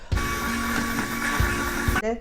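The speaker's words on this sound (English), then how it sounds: "So I'm going to use a hand blender to blend all the sauce." A hand blender whirring through spicy bravas sauce for potatoes bravas, a loud steady motor whine with a couple of dips as the blade bites, stopping abruptly near the end.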